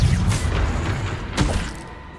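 Spell blasts in Hogwarts Legacy combat: a deep booming hit at the start and a second burst a little over a second later, both loud and close, fading into a low rumble.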